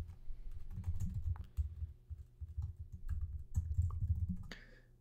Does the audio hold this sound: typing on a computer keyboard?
yes